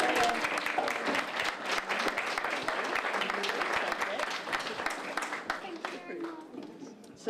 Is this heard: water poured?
no